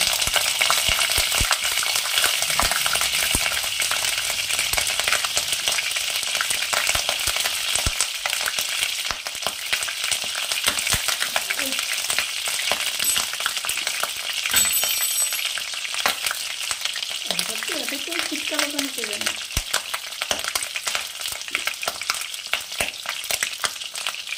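Potatoes and cauliflower fry in hot mustard oil, giving a loud, continuous crackling sizzle close by, with occasional scrapes of a utensil stirring the pan and no voices.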